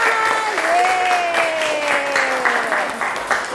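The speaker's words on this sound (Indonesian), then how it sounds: "Tepuk tangan dong buat kalian semua." Students in a classroom applaud together, a steady dense patter of clapping sustained throughout, with a voice speaking over it.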